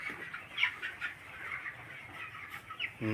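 Broiler chickens about 26 days old and weighing roughly a kilogram cluck on a farm, with a few short, moderately loud calls rising over a low, steady background murmur.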